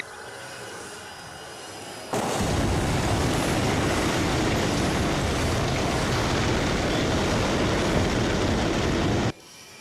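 A train tears past a Lego level crossing at around 70 to 80 mph, a sudden loud roaring rush that starts abruptly, holds steady for several seconds, then cuts off sharply.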